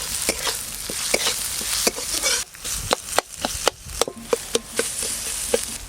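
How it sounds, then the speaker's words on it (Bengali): Mashed boiled potato filling being stirred in a pan with turmeric, salt and shelled bean seeds, with regular scraping and knocking strokes of a spoon against the pan over a steady light sizzle. "সব কিছু একসঙ্গে ভালো করে মিশিয়ে নিয়েছি"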